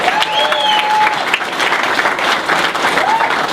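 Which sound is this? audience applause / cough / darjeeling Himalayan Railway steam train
audience applause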